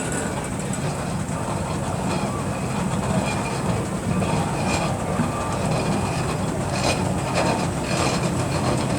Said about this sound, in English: Real heavy roller this one, single crank compound, and lovely to see it here at Strumpshaw.